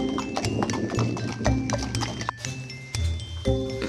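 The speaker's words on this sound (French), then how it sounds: "C'est quand même le meilleur cheval de notre écurie" Horse hooves clip-clop in a steady, close rhythm of sharp knocks, with faint jingling tack and a low background hum.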